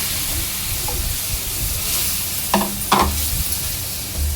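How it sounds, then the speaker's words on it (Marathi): Veg omelette batter hitting a hot pan, a steady frying sizzle with a couple of brief sharper bursts midway as more batter goes in, close and fairly loud, with no talk. "आता याच्यावर आपल्याला व्हेज ऑमलेट सोडायचं आहे।"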